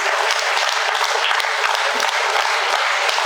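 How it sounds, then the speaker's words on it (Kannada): A seated audience at a talk on the importance of a guru claps in a dense, steady round, loud and continuous from start to finish with no talking. "ಅವ್ರಿಗೆ ಇನ್ನೊಂದ್ಸಲ ನಾವು ಚಪ್ಪಾಳೆ ಮೂಲಕ ನಾವು ಥ್ಯಾಂಕ್ಸ್ ಅಂತ ಹೇಳೋಣ"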